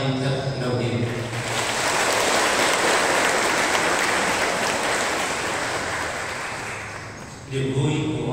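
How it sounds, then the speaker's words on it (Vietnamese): A church congregation at a Catholic parish Mass in Kim Châu, Vietnam, breaks into loud, sustained applause that swells and then slowly fades, with talk just before and after. "Chúng ta hân hoan chúc mừng giáo xứ Kinh Châu bằng một tràng pháo tay thật nồng nhiệt."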